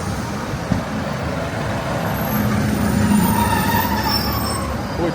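Esk Valley Line train rumbling steadily close by, with rolling wheel noise and thin squeals layered over the engine drone, loud and continuous with no talking.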